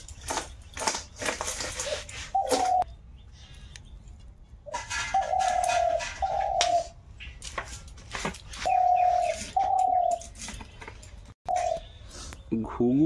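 A dove calling in the background near a Sundarban kitchen, with short tonal coos repeating in pairs at intervals against sharp clatter and chopping from cooking nearby.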